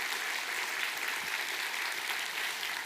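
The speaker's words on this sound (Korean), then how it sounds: "수고하신 우리 인도네시아 아우리치 팀과 또 학령기 섬기느라고 수고하신 우리 선생님들 위해서 한번 힘찬 격려 박수 부탁하겠습니다" A church congregation at a Sunday service claps in a dense, even wash of applause that holds steady and fairly loud throughout, with no voices over it.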